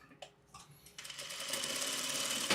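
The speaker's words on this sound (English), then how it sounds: "And I will just sew this piece on here." A sewing machine stitches a piece of fabric. A few brief starts are followed by a steady, close, whirring drone that runs continuously to the end.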